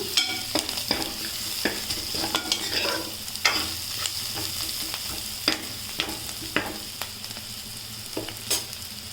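Beaten egg with turmeric roasts in a pan, a continuous close sizzle broken by frequent scraping strokes of a spatula stirring at an irregular rhythm, with no voices.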